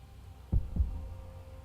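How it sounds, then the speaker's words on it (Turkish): Two low, thumping heartbeats close together in Hollow Knight: Silksong, a lub-dub pair rising over a quiet hum, then fading into faint background drone. "Şu an gördüğünüz gibi kalp atış seslerini duyabiliyoruz abi."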